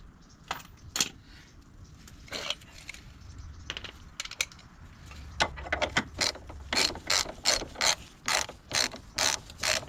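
A ratchet turns a 15mm deep socket to tighten a car suspension bolt, scattered clicks at first, then a steady run of loud, close, evenly spaced ratcheting bursts with no talk.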